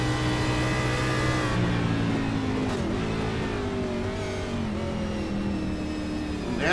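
A race car powers out of a corner on the Chicago street circuit, its engine note climbing steadily in pitch through the gears, loud and close, with a brief shift blip midway and no voices.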